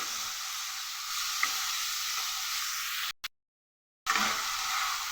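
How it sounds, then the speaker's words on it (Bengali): Chicken mince frying with onion, tomato and ginger gives a steady low sizzle with light stirring scrapes, close and quiet, broken by a brief full silence before the frying resumes. "তিনটাকে একসাথে ভালো করে ভাজবো।"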